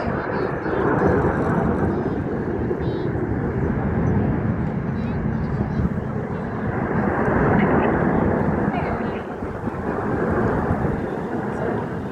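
Red Arrows jet aircraft performing a rollback aerobatic manoeuvre at an air display, a loud continuous roaring rumble that swells and fades slightly over the clip.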